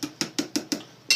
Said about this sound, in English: So as long as I can just tap them in like that, it's perfect.